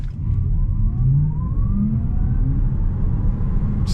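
A Tesla Model 3 Performance accelerates hard in sport mode. A steady low electric-drive rumble is joined by rising whine tones as speed builds, and the sound stays fairly loud throughout with no talking.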